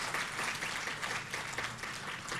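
Audience members at a community event applaud two performers, a continuous soft patter of many hands clapping without talk.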